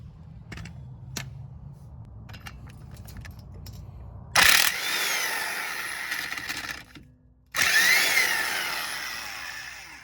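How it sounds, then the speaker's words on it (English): An impact wrench loosens the tight strut nuts on the front strut assembly of a 2004–2006 Lexus RX330. Two long, loud, close rattling bursts are separated by a brief pause, with quieter clinks before them. "That one was pretty tight, so I had to use my impact."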